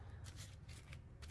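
A deck of playing cards being shuffled off by hand during a card magic trick, a rapid riffling rustle of repeated card bursts, close and fairly loud, with no talking.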